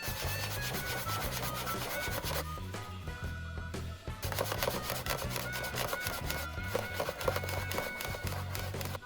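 A sticker is scrubbed off a Nintendo NES console casing with rubbing alcohol, giving close, rhythmic rubbing strokes that repeat steadily throughout with a brief pause midway.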